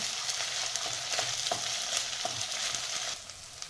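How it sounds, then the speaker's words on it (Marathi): A paste of ginger, garlic and coriander frying in hot oil, a dense close sizzle with scraping stir strokes throughout, no voices. "आता मी अद्रक लसूणची पेस्ट घालते, कोथिंबीर अद्रक लसूण वाटलेलं आहे। ही तेलामध्ये चांगली फ्राय करून घ्यायची।"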